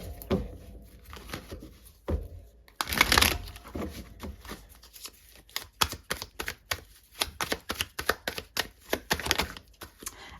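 Tarot cards are shuffled by hand, giving a quick run of crisp, close riffling and slapping bursts in an irregular rhythm, with one longer flurry early on and no speech.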